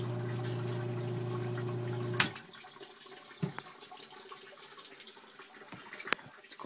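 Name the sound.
thaw water rushing into sump pit from weeping tiles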